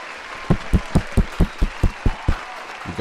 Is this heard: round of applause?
yes